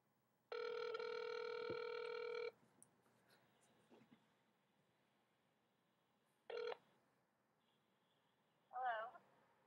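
A telephone on speakerphone rings with a long steady electronic tone, followed by short beeps and faint clicks in a quiet room.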